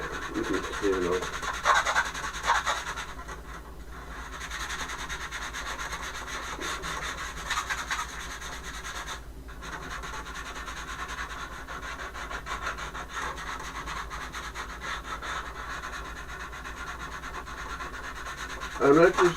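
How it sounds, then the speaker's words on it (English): Steady scratchy rubbing of sandpaper and a file on the wooden front of a model airplane fuselage, continuous strokes close up, with occasional brief pauses. "I'm going to sand and file the front of the fuselage."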